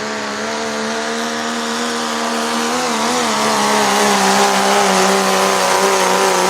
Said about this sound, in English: Megatron, limited pro diesel pickup.